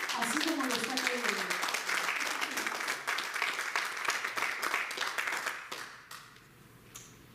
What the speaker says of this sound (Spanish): Den un aplauso y alabanza al Señor